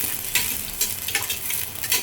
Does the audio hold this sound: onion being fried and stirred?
yes